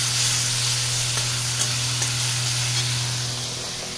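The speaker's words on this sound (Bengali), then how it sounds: "দেবো টমেটো পোড়া আর একটু আদা বাটা দিয়ে সব মশলাগুলো দিয়ে নাড়তে থাকি।" Garlic paste, ginger paste and charred tomato paste stirred in a hot pan for an egg curry, a steady close sizzle with faint scraping strokes and a constant low hum throughout, no voices.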